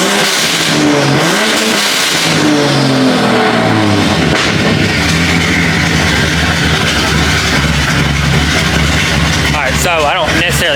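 A turbocharged car engine revs hard on a test drive, a dense, loud, continuous roar climbing in pitch as boost builds, heard close up with voices talking over it.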